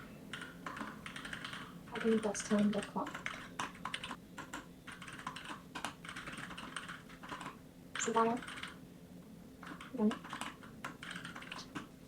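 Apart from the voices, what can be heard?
typing on a new computer keyboard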